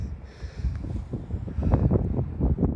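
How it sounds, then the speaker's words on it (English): Gusty wind buffeting the microphone outdoors in a muddy field, a loud low rumble that surges and fades in uneven bursts. "Hope the wind isn't coming in too bad."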